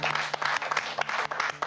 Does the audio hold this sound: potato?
no